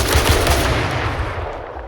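Dense, loud gunfire in a shooter video game set in the Zone while fighting bandits, a rapid continuous burst of overlapping shots with heavy low rumble, no talking.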